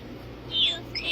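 A pet bird gives a couple of short, high whistled chirps close by over a low background hum, with a brief pause between the two calls.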